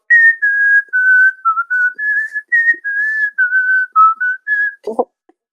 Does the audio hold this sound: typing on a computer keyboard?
no